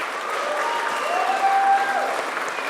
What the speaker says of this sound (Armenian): Ստոպ, եկեք ծափարենք։